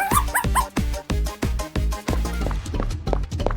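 Small dog barking and yipping in a quick series of sharp, close barks with brief whimpering sounds between them.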